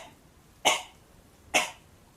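Two sharp, close coughs come about a second apart against quiet room noise, each a short, breathy burst with no talking.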